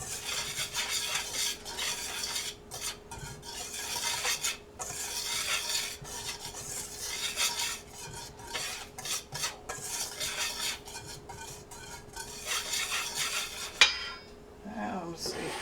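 A spoon scrapes and stirs salt and pepper into a mixture in a bowl while making homemade onion rings, with a steady close rasping and clinking that goes on for several seconds.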